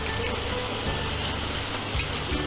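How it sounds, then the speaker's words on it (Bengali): Ginger garlic paste fries in a pan for a fish kofta gravy, giving a continuous close sizzle with soft crackling and faint stirring scrapes throughout. "ভাজতে হবে গন্ধটা যাওয়ার জন্য"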